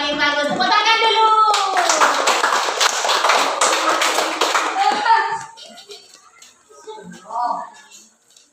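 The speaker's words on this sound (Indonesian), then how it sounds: "Tepuk tangan dulu." A classroom of children claps hands in a dense, lively burst of rapid applause after a teacher's voice, then it fades out as a few children's voices follow.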